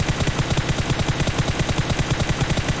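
Rapid automatic gunfire from PUBG Mobile during a bridge fight in a duo match, loud, close bursts repeating in a steady fast rhythm throughout with no talking over it.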